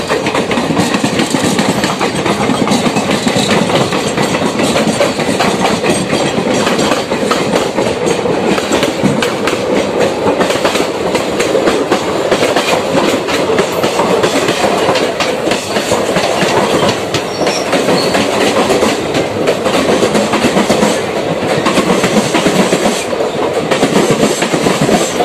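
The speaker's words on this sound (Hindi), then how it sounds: "ये लीजिए ओवरटेक कर दिया है वाराणसी देहरादून ने हमें।" Farakka Express running with a steady loud roar and rhythmic clickety-clack of wheels on rails as the Varanasi Dehradun Express overtakes it, heard continuously from inside a general coach with no talk.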